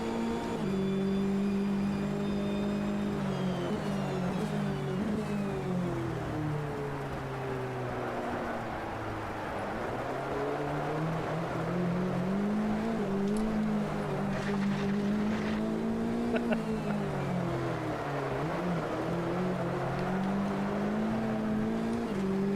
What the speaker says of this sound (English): these new cars from the Racin USA DLC do sound better than some of the cars in the